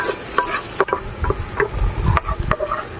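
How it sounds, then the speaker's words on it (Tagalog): Milkfish (bangus) sautéing in a frying pan: loud continuous sizzling with repeated sharp scrapes and taps of a spatula against the pan. "Tapos, gisahin lang muna natin to."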